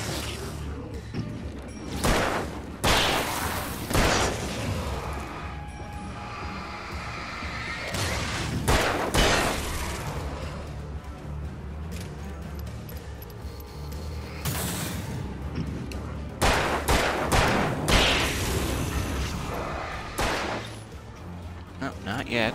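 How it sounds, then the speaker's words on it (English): Shotgun blasts ring out again and again during an ambush in the video game Alan Wake, loud broadband bursts in irregular clusters over a dense din of action, with a voice talking over parts of it. "It's a shotgun ambush."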